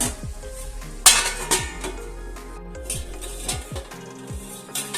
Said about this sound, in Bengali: আমি এই জন্য ঢাকা দিয়ে দিচ্ছি।